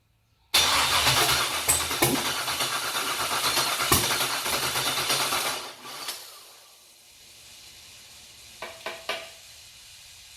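A junkyard LS 5.3 V8 mounted on an engine stand fires up and runs loudly for about five seconds with a harsh, steady roar, then cuts out, followed by a few short sharp pops near the end.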